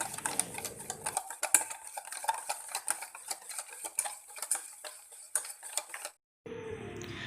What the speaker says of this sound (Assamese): ডিম দুটা ভালদৰে ফেটি লোৱাৰ পিছত গুড়ি কৰি লোৱা চেনিখিনি এড কৰি দিব আৰু লাহে লাহে ফেটি ল'ব